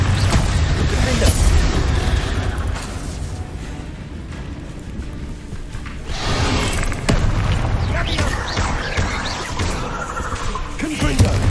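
Blasting spell explosions in the Hogwarts Legacy video game, loud booming bursts layered over continuous dense battle noise and game sound, with a few sharper crashes around the middle and toward the end.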